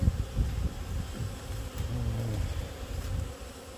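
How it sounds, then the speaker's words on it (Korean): A single small hornet flies around near honey being harvested, its faint buzzing drone rising and falling beneath low background noise. "여기 보시면 말벌 한 마리 날아다니는데 굉장히 작습니다"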